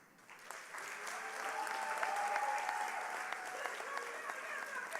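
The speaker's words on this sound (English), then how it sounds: "Let's give them another round of applause." Crowd applause at a Cheyney University Kente ceremony swells up quickly and holds steady, a thick wash of many hands clapping in a large room, heard alone without speech.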